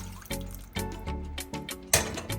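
Water being poured into a pot of chicken while cooking a chicken dinner, a series of splashing, gurgling pours in short bursts, close and moderately loud, with no talking.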